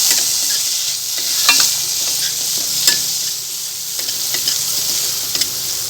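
Turmeric and coriander sautéing for bhakri chivda, a loud close sizzle with repeated spoon scrapes and light taps against the pan at an uneven pace, no voices.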